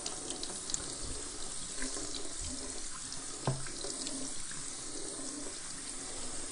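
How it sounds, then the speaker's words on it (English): Cold tap water running over cooked noodles in a kitchen sink, a steady continuous splashing rush with faint clinks of noodles and pot, close and without talking. "I'm washing off my noodles in cold water, people. In cold water."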